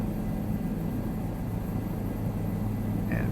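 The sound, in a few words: helicopter hovering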